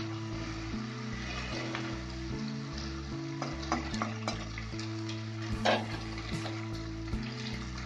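Chopped tomatoes tipped into a pan of Bengali bhola fish curry, giving a steady close sizzle of frying with scraping stirs and a few sharp clinks of a spoon against the pot.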